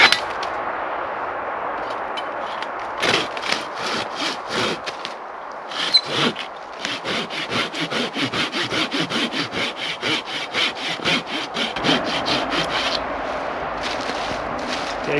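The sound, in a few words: hand saw cutting through a tree trunk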